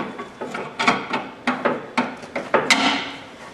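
Ratchet wrench working the nuts on a military Humvee tire carrier, giving a series of short, close clicking and knocking strokes in an uneven rhythm, with no talking.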